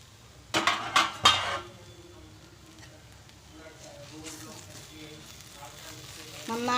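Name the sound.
opening the lid of a pot of cooked methi bhaji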